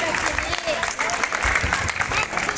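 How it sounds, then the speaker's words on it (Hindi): A village crowd at an Ambedkar Jayanti celebration bursts into loud, sustained applause, dense rapid clapping filling the space with a few voices faintly audible beneath it. "जोरदार तालियों से एक बार उनका"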